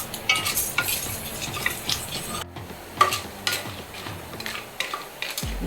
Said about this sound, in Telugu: ఇంకో మినపప్పు ఇప్పుడు వేస్తున్నాను